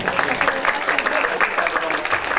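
Dense, steady applause fills a primary school graduation ceremony in Turkey: many hands clapping at once in an even, continuous patter with no breaks, moderately loud and close.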